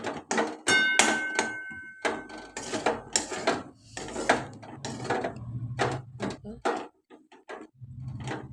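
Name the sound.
stirring semolina upma with sugar in a pan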